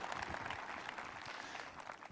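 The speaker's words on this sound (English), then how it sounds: "So a round of applause for those retiring." Audience applause at a high school graduation ceremony, a continuous spread of clapping heard from a distance, fairly faint and steady throughout.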